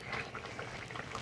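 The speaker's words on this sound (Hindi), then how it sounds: "तो देखिए बहुत अच्छे से उबल रहा है।" Zucchini and tomato curry boils in a pot, giving a steady soft bubbling and simmering that stays close and fairly quiet throughout, with no talking.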